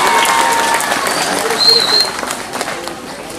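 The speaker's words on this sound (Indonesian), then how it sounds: "Tepuk tangan lo." Applause from community members and schoolchildren at a Friday clean-up event in Sintang, a dense steady clapping crowd heard close, fading slightly toward the end, with some voices mixed in.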